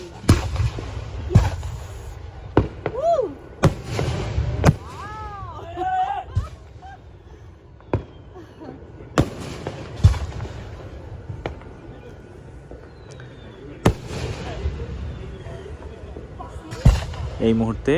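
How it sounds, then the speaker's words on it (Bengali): Fourth of July fireworks in Highland Park, Binghamton, with sharp bangs and crackling bursts at irregular intervals, some near and loud, heard over a busy crowd murmur and chatter. "উনিও ফায়ার ওয়ার্কস উপভোগ করছেন বিংহ্যামটনে হাইল্যান্ড পার্কে"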